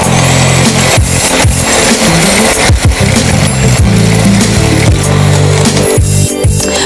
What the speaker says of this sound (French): on va mélanger le tout avec un fouet électrique ou un fouet manuel